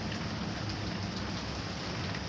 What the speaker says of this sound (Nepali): आज मालदिप्समा पर पानी पर्दैछ।